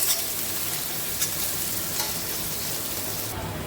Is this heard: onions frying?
yes